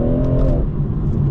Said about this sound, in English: I say that as it's popping and banging